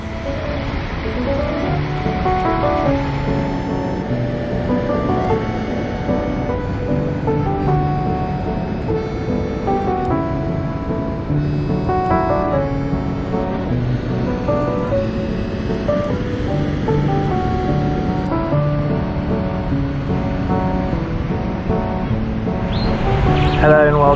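Ocean waves break continuously on the beach at Storms River Mouth in Tsitsikamma National Park, a steady broad roar with musical tones layered over it throughout.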